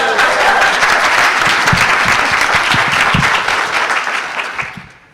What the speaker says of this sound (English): I think a round of applause for Liz.